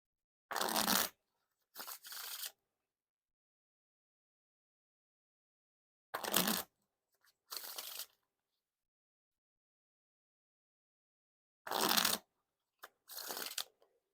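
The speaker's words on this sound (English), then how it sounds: "Now onto the riffle shuffle or bridge shuffle." Riffle shuffling of a Theory11 Copper Rarebit deck of playing cards, three separate rounds each made of two quick, crisp bursts of flicking cards, close up with silence between rounds.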